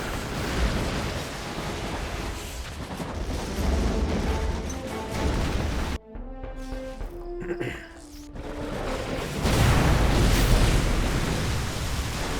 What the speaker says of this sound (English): Just a regular bomb run on the Aquila and multi-gunner turret to finish off the Dreadnought.